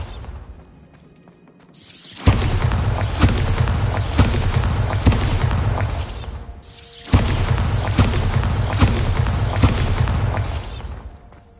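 Two long Bombarda spell explosions from a video game erupt loud and close, each a heavy broadband blast followed by sustained crackling rumble, separated by a brief dip.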